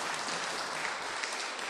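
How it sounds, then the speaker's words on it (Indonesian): A brief, steady wash of applause rises from an audience at a talk for a Buddhist vihara, the claps blending into an even hiss without a break. "Tepuk tangan."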